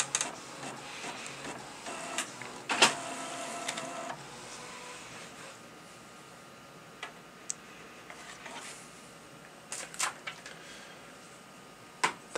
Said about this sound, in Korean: P600에서 인쇄를 진행할 수 있습니다.